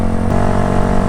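A 2017 Yamaha YZF-R125 motorcycle engine runs loud and steady, a close, constant buzzing drone with no talk over it.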